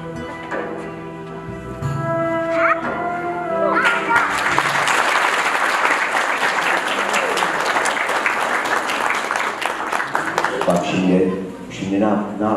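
An audience applauds loudly at a live religious talk program, steady clapping building after a spoken passage with musical tones and continuing for several seconds before tapering off.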